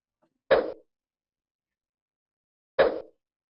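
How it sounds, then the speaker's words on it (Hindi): Two short, identical plopping notification blips about two seconds apart, clean against silence; a MetaTrader trading platform order notification. "ये मेटा ट्रेडर की आवाज है।"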